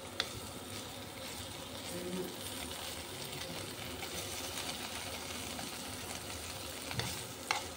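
Paneer pieces frying lightly in a pan give a soft, even sizzle, quiet and close, with a couple of faint utensil taps.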